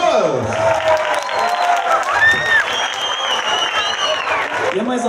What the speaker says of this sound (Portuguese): Fazer a salva de palmas pros meninos!